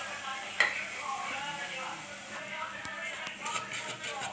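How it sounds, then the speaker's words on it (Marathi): Roasted coconut and onion paste hits a hot pan for crab curry, giving a steady soft sizzle with stirring and a few scraping clinks, close and moderately loud. "हे आपण आता खोबरं कांद्याची पेस्ट टाकू, भाजलेलं खोबरं कांद्याची पेस्ट"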